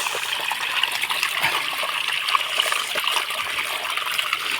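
Hot spring water at Unhavare in Mandangad flowing from a spring beside a Mahadev shrine, a continuous close hissing trickle and gush without pause.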